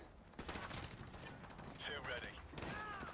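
Mini Uzi submachine gun firing in Call of Duty: Modern Warfare Remastered on PS4, heard as loud rapid bursts of automatic fire with short gaps between them, mixed with game effects.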